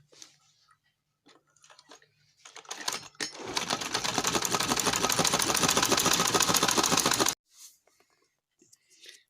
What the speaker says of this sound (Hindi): अब इनकी किनारी के ऊपर एक एक सिलाई लगा देते हैं।